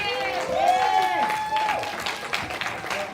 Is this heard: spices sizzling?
no